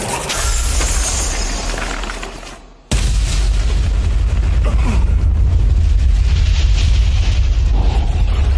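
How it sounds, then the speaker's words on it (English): An explosive fire spell detonates in an anime battle, a loud blast that tails off briefly and then surges into a sustained, roaring, crackling rumble that holds steady to the end. "it's an explosive fire spell instead"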